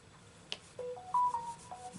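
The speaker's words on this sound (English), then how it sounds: "It's my phone." A mobile phone chimes indoors with a short melodic notification tone of several clear rising and falling notes. A soft click comes just before it, and no one talks.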